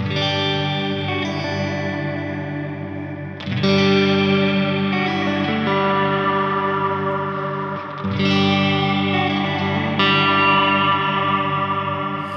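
Sustained electric guitar chords ring out through a Strymon shimmer reverb pedal, drenched in a shimmering, octave-rich reverb that swells and washes over each strum, with no talking.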